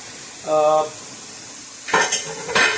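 Dark brown onions and desi chicken fry in a pan for curry, with a brief tonal clink followed by two bursts of hissing sizzle and stirring against a quiet background.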